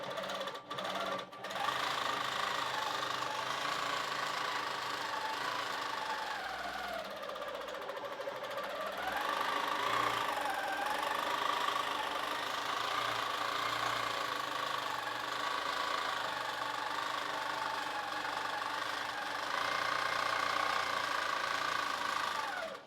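Longarm quilting machine stitching while travelling left to right, a steady, rapid mechanical hum and needle chatter that swells and dips slightly in pitch as its speed changes, close and continuous throughout.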